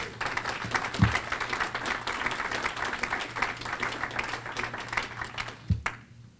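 An audience at a college wellness center dedication applauding, a dense, steady patter of many hands clapping across the room that fades out at the end.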